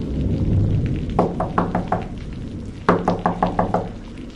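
Two bursts of knocking on a closed door in a dark horror tale, each a quick run of five or six sharp raps with a pause between, heard over a low rumbling ambience.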